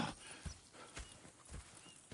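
Horses in Red Dead Redemption 2 clip-clop with soft, evenly spaced hoof strikes over faint outdoor ambience, quiet and somewhat distant, with no talk.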